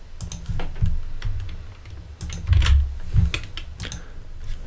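Typing on a computer keyboard, close and crisp: irregular bursts of key clicks with heavier thumps, including a firm press of the return key.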